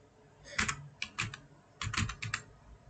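Keys clatter on a computer keyboard as C code is typed, in three quick clusters of close, crisp keystrokes separated by brief pauses, with no voices.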